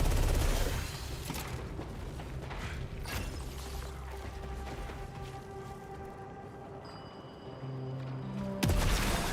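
A charge burst gun firing in the game Saros, with dense bursts of rapid shots and mechanical clatter that thin out over several seconds, ending in a sharp final blast.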